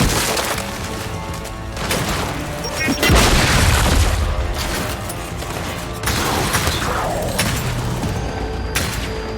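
A grenade blast in the Gears of War shooter booms loudly around the three-second mark, with heavy low rumble and debris, amid ongoing combat noise and voices shouting.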